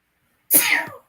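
A single sharp sneeze bursts out close by, brief and loud, followed by silence.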